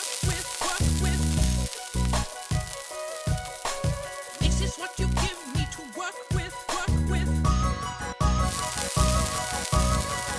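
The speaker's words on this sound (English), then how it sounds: "I will try to fry them with just the flour and hope that works" Flour-coated pieces fry in vegetable oil for a vegan dish, giving a steady sizzle that runs under loud, rhythmic background music.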